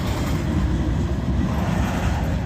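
A freight train hauled by a GP40 locomotive rolls past close by at night in a loud, steady rumble with a faint rhythmic rattle of cars over the rails. No voices are heard.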